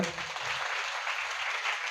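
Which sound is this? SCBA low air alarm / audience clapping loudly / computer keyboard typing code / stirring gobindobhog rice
audience clapping loudly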